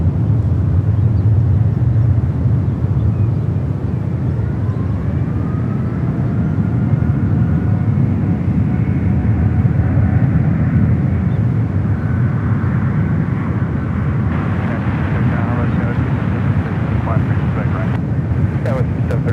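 An airplane roars continuously at San Francisco International Airport, a loud, broad engine rumble with wind buffeting the microphone, steady for the whole stretch with no gaps.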